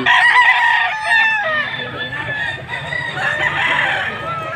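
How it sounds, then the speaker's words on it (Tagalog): Gamecocks cluck and crow close by at a pet market, overlapping calls from several birds in a busy, noisy pen. "Ito yung mga manok na pang garbi."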